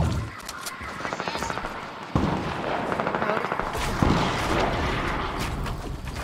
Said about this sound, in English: What's that gun? That's so loud.